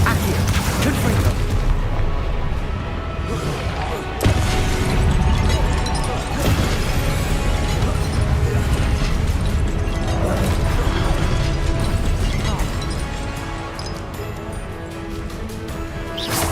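Confringo explosion spell in Hogwarts Legacy, a dense run of loud booming blasts and crashes with a sharp impact early on, rumbling continuously amid other spell effects.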